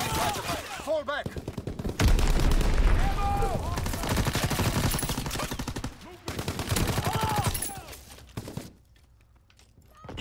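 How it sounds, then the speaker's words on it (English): Heavy WWII gunfire crackles through a Call of Duty WWII battle, with bursts of rifle and machine-gun shots and booming impacts from incoming enemy artillery, loud and dense. In-game voices call out over the din before it thins toward the end. "Incoming enemy artillery."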